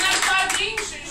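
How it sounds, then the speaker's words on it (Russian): Brief burst of audience clapping at a live entertainment show contest, sharp hand claps close by, lasting about a second with a faint voice or tonal sound beneath. "Ваши аплодисменты"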